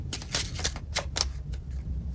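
Kipper oracle cards being shuffled by hand during a psychic reading, giving a run of quick, crisp papery riffles and flicks in several bursts, close and moderately loud over a low room hum, with no talking.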